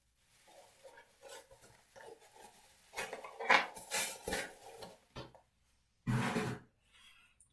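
Raw ground beef for chili being stirred in a pot, with scraping, clinking spoon-on-metal sounds and a few louder knocks, close and intermittent, no talking.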